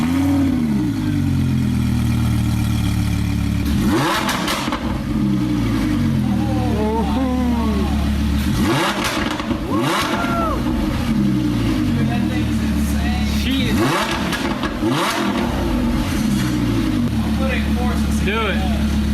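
A Lamborghini Huracan fitted with a new short exhaust idles loudly at close range, then is revved sharply in three separate bursts that rise and fall back to a rumbling idle.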